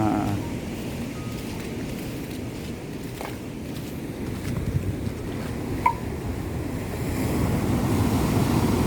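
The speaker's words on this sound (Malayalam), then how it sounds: "ഈ തിരമാല കരയിലേക്ക് വരുന്നല്ലേ" Sea waves roll in toward the shore in a steady, close roar, with wind buffeting the microphone throughout and a few faint knocks, with no voices.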